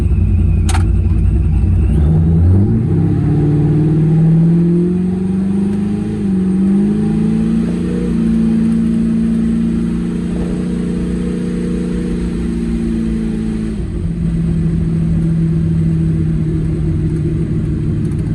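A boosted small-block Chevy V8 in an S10 truck, run without a thermostat, revs loudly and close by, rising and falling in long pulls over a steady rumbling idle, with no voices.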